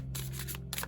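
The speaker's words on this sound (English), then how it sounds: "let's pull some concluding cards here" Quick papery snaps and slides as tarot cards are pulled from a deck, several short crisp bursts within a second over a low steady background hum.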